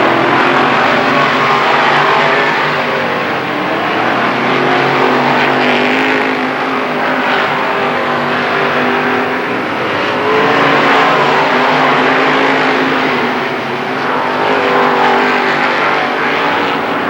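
Modified race cars roar around the Lernerville Speedway oval in 1994, a loud, continuous engine drone that swells and fades as the pack passes.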